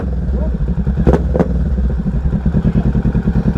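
A 2022 Kawasaki Ninja 650 motorcycle engine revs loudly and close by, a steady throbbing idle that rises briefly in a couple of sharp throttle blips, with a voice faintly underneath.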